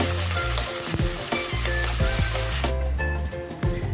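Tomatoes tipped into a hot frying pan for kangkong, giving a loud, dense sizzle with repeated scraping stirs at a steady rhythm, close and continuous.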